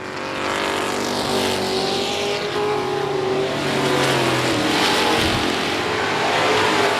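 Race cars lap the I-37 Speedway oval through lapped traffic, engines droning loudly and continuously with rising and falling pitch as cars pass.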